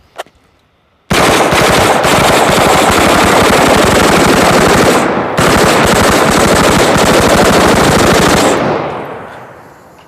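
A CMMG Mutant 7.62 rifle fires full-auto at bins outdoors, very loud continuous bursts of rapid shots lasting several seconds with a brief break, after a single early shot, then fading echo.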